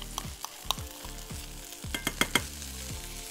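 Calf liver cooking in a pan of sauce with butter, a steady close sizzle broken by a run of sharp spatters and scrapes toward the end, with no voices.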